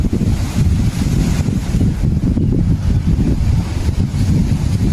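Sea waves at Chalatat beach give a steady, dense roar of surf, with wind buffeting the microphone throughout and no voices.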